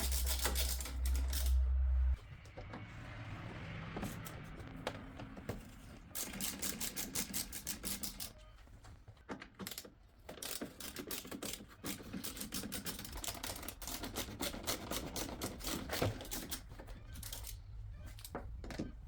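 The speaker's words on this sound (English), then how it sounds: "Let's remove those 4 screws first." Screws come out of the upper grille trim on a 2007–2011 Audi A5 B8 as a run of small, close clicks and ratcheting taps from a hand tool, with faint handling noise between them.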